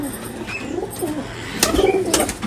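Pakistani Kamagar pigeon cooing close by, a soft repeated throaty coo in short bursts with a few brighter chirps, no talking over it.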